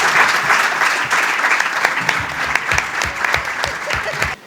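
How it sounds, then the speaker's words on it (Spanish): An indoor audience at a theatrical presentation breaks into loud, sustained applause welcoming a speaker, a dense clatter of many hands clapping that runs for several seconds before cutting off. "Les invito a recibir con cariño y con un fuerte aplauso al hiperactivo señor don José Florentino Gil García."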